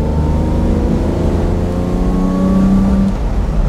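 A 1967 Lamborghini 400 GT 2+2 with its V12 engine accelerating on the road, a loud, sustained engine drone whose pitch climbs steadily, with no talking.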